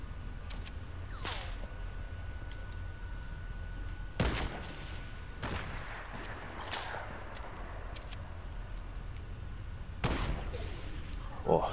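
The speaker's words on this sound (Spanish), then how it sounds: "nos están cayendo tiros desde por ahí" Gunfire in a Spanish-language multiplayer shooter game, with several sharp broadband shots spread across the stretch, some doubled, over a steady game ambience and low hum.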